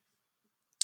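A single sharp computer mouse click, close and crisp, near the end of an otherwise silent moment.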